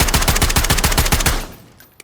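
A KV Broadside shotgun fitted with the JAK Jawbreaker fires in a video game, a rapid automatic string of about a dozen loud, evenly spaced blasts that stops abruptly, leaving a brief fading tail.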